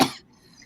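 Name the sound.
coughing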